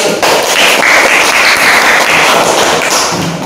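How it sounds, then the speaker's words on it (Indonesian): A classroom of children claps together during a lesson on Surah Al-Fil, a loud, close burst of rapid hand claps lasting a few seconds. "Bagus, tepuk tangan."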